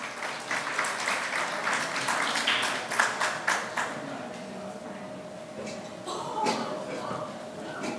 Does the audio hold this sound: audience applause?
yes